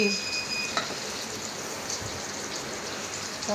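Fish, apparently pomfret, fries in a pan with a soft, continuous crackling sizzle at moderate level, with no talk over it.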